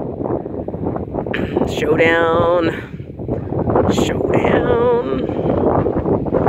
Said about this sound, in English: Anyway, it's very windy today.